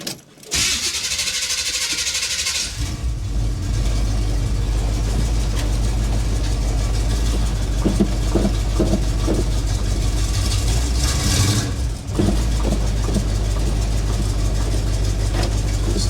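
A 1977 Chevy Monte Carlo that had sat unused for many years cranks, then its engine catches and settles into a steady, loud, close idle that runs on to the end, with a brief dip in the rumble partway through.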